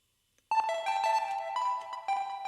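Silence is broken by bright, bell-like electronic tones from a Make Noise 0-Coast modular synthesizer, sounding in quick succession. Repeating delay echoes overlap them and sustain for a couple of seconds.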